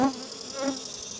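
Honey bees buzzing steadily over an open hive during a beekeeping inspection, a close, continuous hum with individual bees passing near, with no talk.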